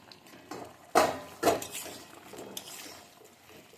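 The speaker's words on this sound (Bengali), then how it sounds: "এবার এগুলোকে নেড়ে নিচ্ছি গ্যাসের আঁচটা এরকম বাড়ানোই থাকবে তবে একটু সাবধানে নাড়তে হবে" A few metal utensil scrapes and clinks against a pan of frying moong dal dumplings (puli pitha) on high flame, two sharper knocks early on, then softer stirring sounds, fairly quiet and close.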